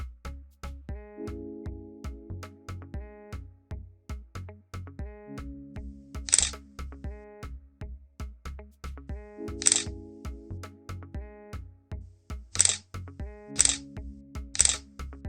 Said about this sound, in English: Here the camera takes 3 photos upon hitting the record button.